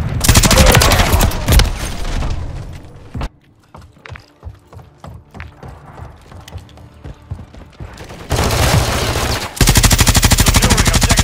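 Heavy automatic gunfire from a Modern Warfare 3 multiplayer match on the Dust to Dust map, Mk 46 light machine gun: dense loud bursts open the clip, a quieter stretch of scattered shots and clatter follows, then loud sustained firing returns.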